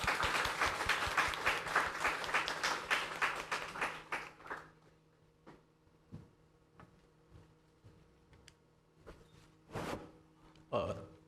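Steady, lively clapping from the audience at the Tunghai University GMBA graduation ceremony fills the room for about four seconds, then fades into sparse claps and occasional soft thumps.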